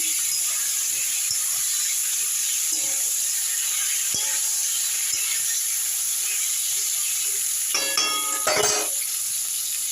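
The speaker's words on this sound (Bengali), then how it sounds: "সবজিগুলো ভাজা চলছে" Potato, brinjal and pointed gourd frying in mustard oil, a steady bright hiss of oil under a few faint clinks of a spatula, with a short louder burst of scraping near the end.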